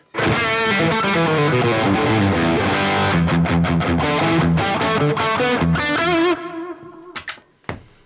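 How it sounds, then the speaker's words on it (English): Loud, heavily distorted electric guitar through a NUX MG-50 Li amp model, playing chords and riffs, ending with a few sharp stabs and a brief fade. "Jawa distortion."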